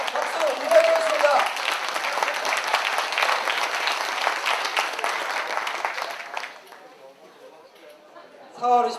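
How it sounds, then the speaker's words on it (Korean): An audience at a political rally applauding, a loud sustained wave of clapping that fades out near the end, with a short burst of sound at the close. "박수 부탁드리겠습니다"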